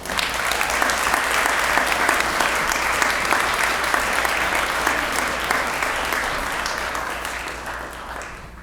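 Sustained applause from an audience at the 2022 Belmont Entrepreneur Awards evening event, greeting speaker Josh Yates; dense, steady clapping fills the room for about eight seconds before gradually thinning toward the end.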